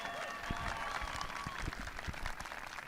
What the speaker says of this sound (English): Give Sophie a big round of applause.